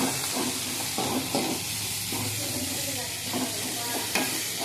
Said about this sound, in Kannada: ಈರುಳ್ಳಿ ಚೆನ್ನಾಗಿ ಫ್ರೈ ಮಾಡ್ಕೊಬೇಕು. ಒಳ್ಳೆ ಕಂದು ಬಣ್ಣ ಬರೋವರೆಗೂ ಫ್ರೈ ಮಾಡ್ಕೊಬೇಕು.